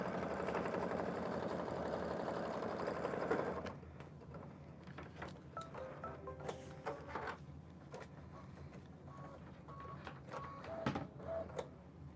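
Embroidery machine stitching a fabric mug rug, a steady mechanical whir at first, then quieter rhythmic needle tapping with small clicks and clacks, close by with no talk.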